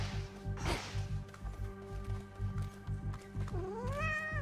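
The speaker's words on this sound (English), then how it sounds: "Oh, look at this kitty." Cat meowing in the video game Hades II, a drawn-out rising-and-falling meow near the end over rhythmic pulsing game music, with a brief whooshing effect earlier.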